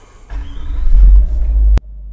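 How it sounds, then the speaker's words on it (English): A Range Rover L322 with a TDV8 diesel and a gearbox fault cranks and fires up with a loud, deep rumbling surge that builds over about a second and ends in a sharp click. "as soon as you start this car"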